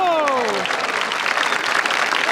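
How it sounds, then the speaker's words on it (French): An outdoor crowd applauds a performer at a medieval festival show, with dense sustained clapping beneath a voice whose call slides downward at the start. "Allez, on l'applaudit."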